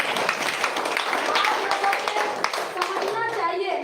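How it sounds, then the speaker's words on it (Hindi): An audience claps for Manish sir at a gathering, a dense steady patter of many hands lasting a few seconds with children's voices chattering underneath. "जोरदार ताली मनीष सर"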